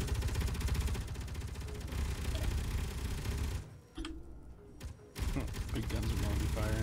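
Big guns firing in the space game Space Engineers, a dense, loud barrage of rapid shots that drops out briefly midway, then resumes at full intensity.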